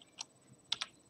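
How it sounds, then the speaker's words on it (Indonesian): A few quick clicks on a computer keyboard as an IP address is entered: one short tap, a pause, then two fast taps close together, near and crisp against a quiet room. "Maka kita ketik saja"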